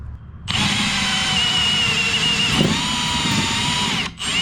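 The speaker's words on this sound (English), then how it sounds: "Now I'm gonna drill a 1/4 inch hole for my 1/4 inch bolt" A power drill whines steadily and loudly for about four seconds, drilling a 1/4 inch hole through a toy hauler trailer, its pitch holding level before it briefly cuts out near the end.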